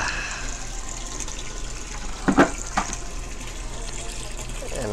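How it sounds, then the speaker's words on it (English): Water gushes steadily from a tap into a bucket at an aquarium, a continuous splashing fill with a couple of brief louder sloshes midway. "let me go get a bucket"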